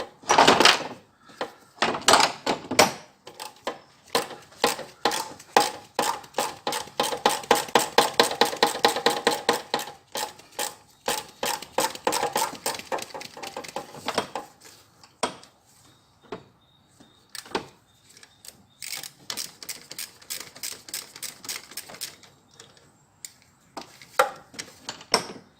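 A wrench works loose the injector retaining nut on a Peugeot 308, a dense run of rapid metallic ratchet clicks followed by slower, sparser clicks and taps, close and loud with no voices.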